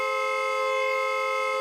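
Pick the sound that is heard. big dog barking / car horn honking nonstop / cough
car horn honking nonstop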